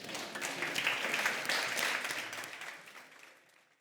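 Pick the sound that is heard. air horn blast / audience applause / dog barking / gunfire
audience applause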